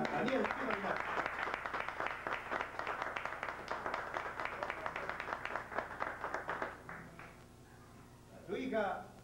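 Warm applause fills a tango event hall for the conductor Daniel Chino Linares, a dense run of clapping that fades out before a voice speaks near the end.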